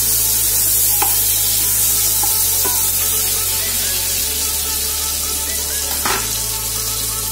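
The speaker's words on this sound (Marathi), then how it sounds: "पॅन मध्ये 2 चमचे बटर टाकले। ते बटर छान मेल्ट करून घेणार आहोत आपण।" Butter melts in a pan while cooking paneer pav bhaji, giving a loud, steady close sizzle with a few sharper spits and pops and no voices.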